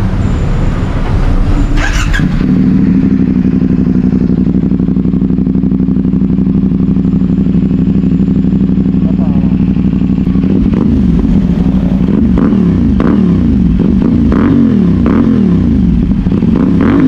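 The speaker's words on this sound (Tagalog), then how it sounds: "Magandang tunog itong conical ng ASC" CFMOTO 450NK motorcycle fitted with an ASC conical muffler, idling with a steady throaty rumble, then revved repeatedly in sharp rising bursts, loud and close; no talking.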